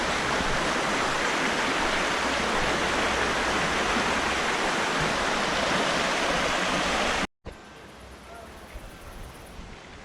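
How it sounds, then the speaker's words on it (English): A small creek in the hills near Mogotes, Colombia, with cows nearby, rushes in a steady, loud broadband wash that stops abruptly, leaving quieter outdoor ambience afterward. "It's like a little creek up here."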